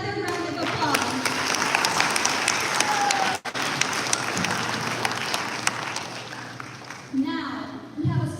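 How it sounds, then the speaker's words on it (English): An audience at a spiritual service event claps in sustained, dense applause after a performance, fairly even throughout with a brief dip partway and some isolated claps near the end. "Let's give another round of applause."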